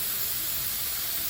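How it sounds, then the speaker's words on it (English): Steady, loud hiss of steam venting from a pressure canner as the pressure builds while pork is canned; a continuous close rush with no other sounds or voices. "the pressure is coming up, and you can hear this. I don't know if you can really see the steam at all"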